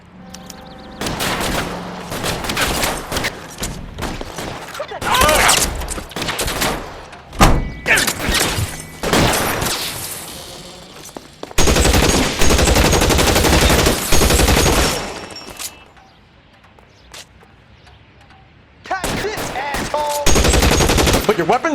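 Gunfire in L.A. Noire during a shootout with security men, loud bursts of rapid machine-gun and pistol shots with heavy thuds, broken by short quieter pauses and a longer lull near the end.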